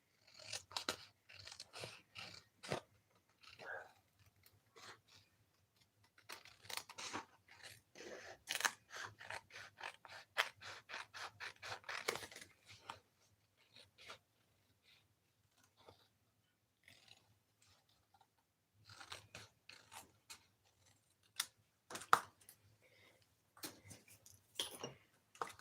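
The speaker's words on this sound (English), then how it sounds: "Just give this a quick trim." Scissors trim a piece of paper card at a crafting table, quiet crisp snips in quick rhythmic runs separated by pauses, close and faint with no talking.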